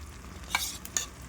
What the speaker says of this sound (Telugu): ఇప్పుడు ఈ టైంలో మనము ఒక 4-3 చెంచాలు నెయ్యి వేసుకుంటున్నాను